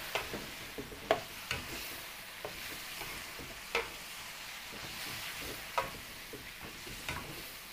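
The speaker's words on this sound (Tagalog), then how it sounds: "Haluin lang po natin." A spoon stirs apritada in a cooking pot, with soft repeated scrapes and occasional sharp clinks against the pot over a faint steady simmer, close by with no talking.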